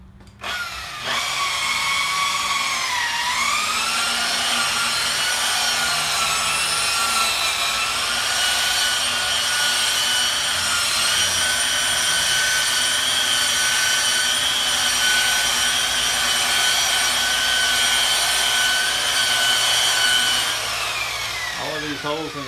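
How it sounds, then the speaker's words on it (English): Rotary buffer spinning a pad with fine compound across car paint, a loud continuous whine that dips in pitch under load, then evens out and winds down at the end. "be mindful when that buffing pad goes over there. You could burn one of those edges"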